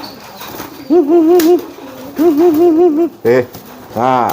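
A pigeon coos in two sustained warbling bursts during its courtship display, close and clear, followed by shorter coos, with someone speaking briefly between them.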